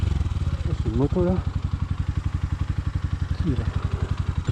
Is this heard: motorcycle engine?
yes